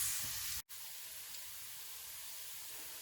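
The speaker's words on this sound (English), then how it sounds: "So starting with frying the carrots." Chopped carrots frying in a pan for risotto, a steady soft sizzle and hiss with one brief dropout early on, continuous and fairly quiet with no talking.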